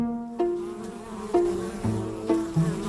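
Bees buzz close by, several droning tones sliding in pitch as insects swoop past one after another, with no voices.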